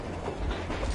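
Train in the video game Metro Exodus, a loud, close rumble of rail wagons with a low rolling drone and faint clickety-clack, heard alone and briefly.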